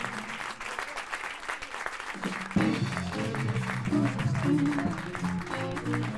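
A club audience applauds the Texas blues band at a 1990 live show in Belgium. Dense clapping runs throughout, and amplified guitar and band sound join partway through.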